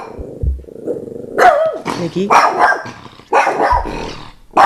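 A dog barks loudly and close by in repeated bursts, mixed with growls and yips, with a low rumbling sound at moments.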